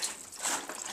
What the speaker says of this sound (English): Just going to get this washed in around the cap there because a lot of grit would have gone in there.